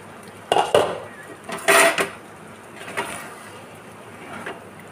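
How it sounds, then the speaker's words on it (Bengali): A metal lid clanks and scrapes as it is lifted off a pot of lentils boiling for khichuri, a few sharp close clinks and rattles in a quiet kitchen, no voices. "কিছুক্ষণ পর আমি ঢাকাটা তুলে দেখে নেব।"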